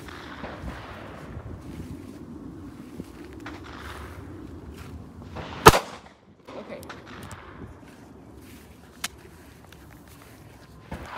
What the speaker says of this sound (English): let's shoot into the berm just to practice again real quick